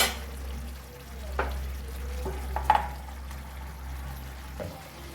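Food frying in a pan on a stove as it is stirred, a steady low sizzle with a few sharp scrapes and clinks of the spoon, close by and alone.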